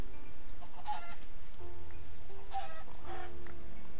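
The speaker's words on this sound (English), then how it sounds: "Some chickens as well, they'll come in" Chickens in the Minecraft video game give short clucking calls in two or three bursts over a steady low game background, with no talking.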